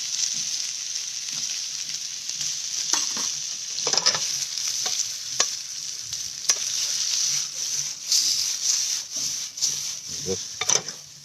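Bengal gram batter being mixed with salt, red chili powder and turmeric, a continuous close wet rubbing and scraping with scattered light clicks of the utensil against the bowl, no talk.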